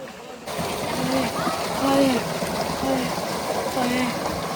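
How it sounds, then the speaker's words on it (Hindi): Cold water flowing down a stream in a rural village: a steady, even rushing wash throughout, with people talking faintly over it. "पानी चल रहा है ऊपर से"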